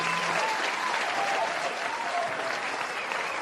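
A crowd gives a steady, dense round of applause for a winner at a live show, sustained and even throughout, with faint voices underneath.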